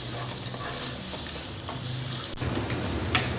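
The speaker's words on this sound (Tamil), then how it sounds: "வெங்காயம் வந்து நல்லா வதங்கி நம்மளுக்கு வரணும்" Chopped onion frying in a pan for a prawn and mutton dish hisses in a dense, even sizzle, with occasional stirring scrapes close by and no talking.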